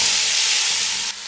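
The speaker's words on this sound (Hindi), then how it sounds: "अब इसको हम 3 से 4 मिनट के लिए अच्छे से फ्राई कर लेंगे" Finely chopped cabbage fries in a hot pan for a chicken vegetable macaroni, a loud, close, continuous sizzle and hiss that drops slightly near the end.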